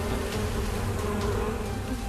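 Honeybees at an apiary during honey harvest swarm around their hives, a dense steady buzzing drone close by and loud throughout.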